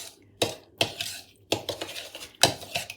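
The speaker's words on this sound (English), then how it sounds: "And we'll give that a quick mix." Lemon drizzle cake batter made with oil being mixed in a bowl: four sharp bursts of a utensil scraping and knocking against the bowl, each trailing off into softer stirring, close and fairly loud with no talk.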